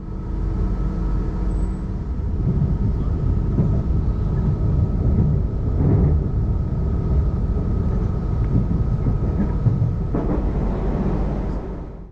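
An SWR Class 444 Desiro electric train rolls into Southampton Central with a steady, loud interior rumble and hum, a faint whine running through it, and a few soft clunks as it slows, with no voices.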